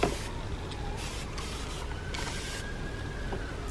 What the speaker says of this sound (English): And then I'll spray.